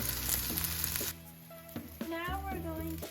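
Vegetables frying in oil in a pan for a stir fry, a steady close sizzle heard under a person talking, along with some faint tonal sounds.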